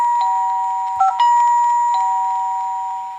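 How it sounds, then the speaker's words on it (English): A 2GIG alarm system panel plays an electronic doorbell chime, a clean sustained two-tone ding-dong that rings loudly and fades slowly with no other sound. "We do different bell sounds or ding dongs, and then you've got ding dong with the voice."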